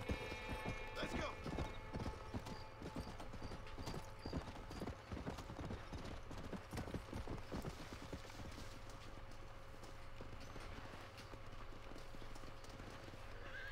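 Horse hooves in the Red Dead Redemption video game, a continuous rapid clip-clop of galloping with an occasional whinny, moderately loud over a low steady hum.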